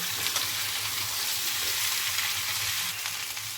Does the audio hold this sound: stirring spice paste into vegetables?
yes